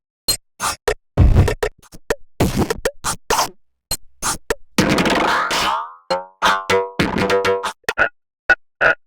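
A drum loop mangled through an iZotope Trash 2 sound design preset comes out as choppy bursts of distorted hits, boings and scratchy glitches with gaps between them, loud and irregular, including a pitched, ringing sweep midway.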